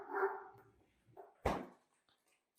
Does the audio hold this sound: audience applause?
no